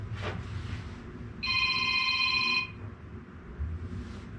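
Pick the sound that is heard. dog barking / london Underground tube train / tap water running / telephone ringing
telephone ringing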